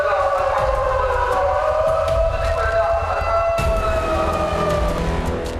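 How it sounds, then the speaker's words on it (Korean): An evacuation siren wails inside a tunnel at a vertical shaft blasting site before detonation, a sustained tone echoing off the walls, loud and continuous over low machinery rumble. "그 시각 터널 내부에도 대피를 알리는 사이렌이 울린다."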